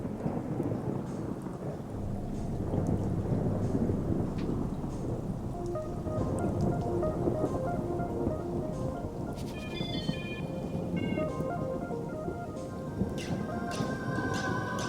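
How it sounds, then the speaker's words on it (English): Rolling thunder rumbles low and continuous alongside steady rain, with the storm building slowly from a quiet fade-in and bright tonal accents rising later. "A bit of rolling thunder."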